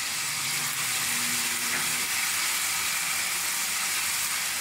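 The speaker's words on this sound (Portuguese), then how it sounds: "Deixar aqui refogar por 1 minuto" Chopped peppers, onion and chili peppers sauté in a hot pan for a Brazilian farofa, giving a steady, close sizzle and hiss with no talking.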